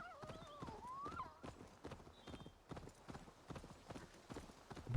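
Horse hooves clip-clop at a steady walking pace in the video game Assassin's Creed Valhalla, with a brief whinny early on, quiet and close, under faint game ambience.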